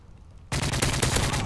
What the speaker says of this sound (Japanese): ガンガン撃ってるね